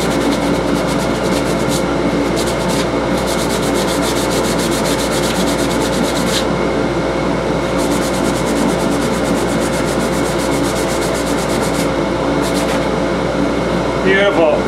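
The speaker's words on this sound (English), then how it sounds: "I'm going to come in just a little bit of hand sandpaper and get just the remainder of that glue" Steady, continuous hand rubbing of sandpaper on wood to remove leftover inlay glue, a dense scratchy hiss that runs without a break throughout.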